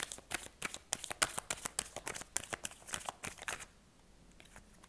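Tarot cards shuffled close by in a rapid series of crisp riffling snaps that stop partway, leaving faint quiet at the end, with no speech.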